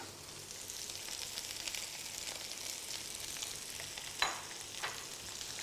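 Onions, capsicums and pumpkin fry in oil in a pan on high heat, giving a steady, fairly quiet sizzle with a couple of sharper crackles and stirring scrapes near the end, with no talking.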